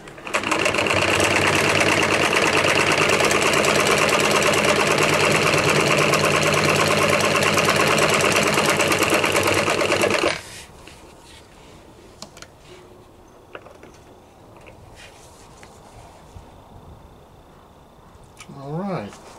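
A sewing machine stitches leather in a loud, steady mechanical chatter for about ten seconds, then stops, leaving quiet room noise with a few faint clicks and handling sounds.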